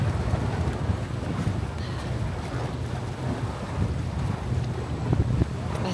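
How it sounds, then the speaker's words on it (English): Strong wind buffets the microphone at a boat dock, a continuous rumbling roar with gusty swells and faint water noise underneath, and no voices heard. "It's so windy."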